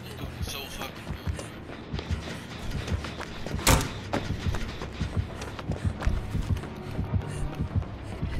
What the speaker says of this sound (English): I hear the heartbeats, bro.